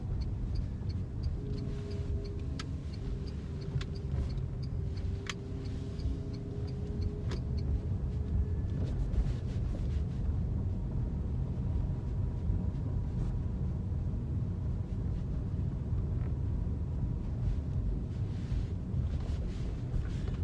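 Steady low engine rumble and road noise from a car driving a driving test route in Finglas, Dublin, continuous throughout with faint wind, a few brief ticking indicator-like clicks early on, and no talk.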